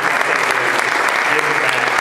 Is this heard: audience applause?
yes